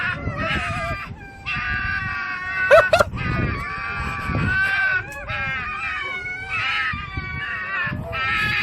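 Cats chirp and chatter at birds in a run of high, trilling, repeated calls, with a sharper squeal near the three-second mark, while a person talks over them throughout.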